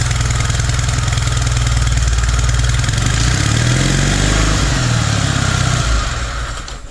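A cold tractor engine running on full choke with no throttle, a steady loud mid-pitched chug close by that wavers in tone before dropping away near the end.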